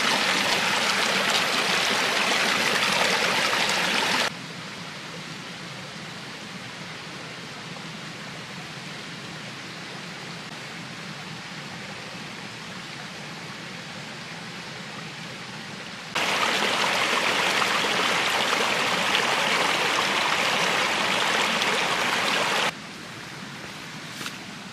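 Risen stream water rushing near a bridge in a natural setting, a steady broadband roar that swells louder in two stretches and drops quieter between them, continuous with no voices.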